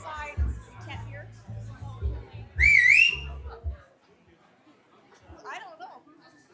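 At a celebration-of-life gathering, a woman gives a short, clear, warbling whistle that rises and falls, after murmured talk in the room, with a fainter whistle following later.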